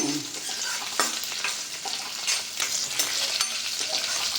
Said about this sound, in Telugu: అలాగే కొంచెం జీలకర్ర ఒక హాఫ్ స్పూన్ హాఫ్ స్పూన్ ఉంటుంది అంతే వీటిని బాగా వేయించుదాము